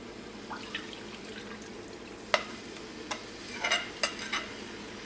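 Coconut milk squeezed from a fresh coconut is poured into cooking banana halwa, giving a soft, continuous sizzle and stir under a few scattered clinks and scrapes, fairly quiet and with no voices.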